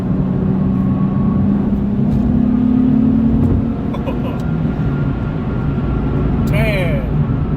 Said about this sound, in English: this car picks up quick